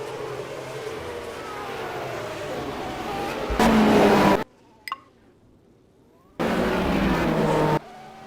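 Formula 1 race cars on the formation lap at the 1991 Brazilian Grand Prix, engines droning past at moderate pace with surging bursts, separated by near-silent gaps.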